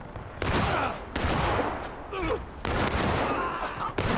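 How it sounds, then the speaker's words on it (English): Muskets fire buck and ball in the Civil War game War of Rights, loud volleys of overlapping shots in several distinct waves, with crackling scattered fire and faint voices between them. "So you'll just see them start getting shredded here with the buck and ball"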